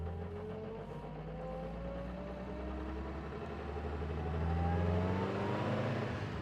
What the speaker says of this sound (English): the engine has lots of torque, okay? So, and totally unfussy